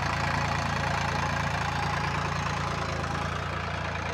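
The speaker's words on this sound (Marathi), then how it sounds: "ट्रॅक्टरने पेरणी चालली भुईमुगाची." A tractor engine runs steadily while groundnuts are sown in a field, a close, loud, even idling drone with a low throbbing pulse and no talk.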